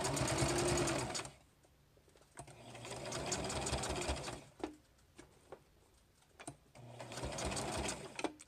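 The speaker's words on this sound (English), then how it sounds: "Sewing with one hand is tricky." A sewing machine stitches a placemat into a rat hammock, running in loud sustained bursts with pauses and soft clicks between them.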